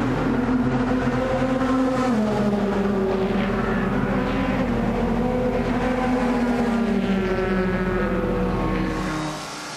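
Endurance race cars brake hard on an uphill approach at Circuit of the Americas. Loud, overlapping engine tones slide downward as the cars slow, and the sound thins out and fades at the end.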